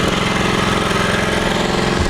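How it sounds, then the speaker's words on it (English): Bravo lawnmower engine running steadily in a backyard, a loud, close, continuous idle-like drone with a rapid low throb and no voices. "you got the Y Bravo lawnmower running"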